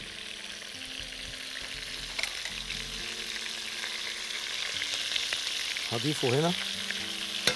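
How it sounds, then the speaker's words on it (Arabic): Chicken pieces and onion sizzle and crackle in oil in a pan, a steady broadband fry with occasional stirring scrapes, close and moderately loud, with someone briefly speaking near the end. "ودول بحمر معاها بصل، بصل قورمة"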